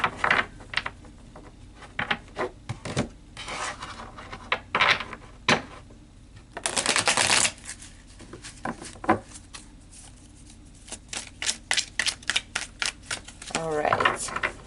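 Repeated bursts of tarot cards being shuffled, riffling in quick clusters with pauses between, under occasional talk.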